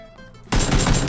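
After a quiet moment, AK rifle fire erupts in the video game PlayerUnknown's Battlegrounds: a loud, rapid burst of automatic shots that keeps going to the end.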